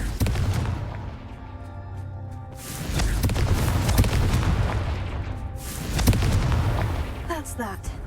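A spell cast in the Hogwarts Legacy video game sets off a series of loud, booming fiery blasts with rumbling bursts and crackling debris, each swelling and decaying near the listener.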